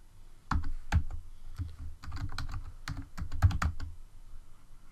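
Quick bursts of computer keyboard typing while a username and password are entered, close and fairly quiet, with irregular clusters of key clicks and brief pauses between them.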